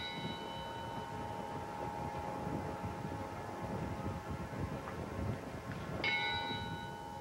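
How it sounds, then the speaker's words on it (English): A single church bell tolls faintly at the Ground Zero memorial in New York, one struck note ringing out and decaying near the end over steady outdoor wind and crowd rumble. "At 10:29 local time, the toll of the bell, marking the dreadful moment when the second tower fell"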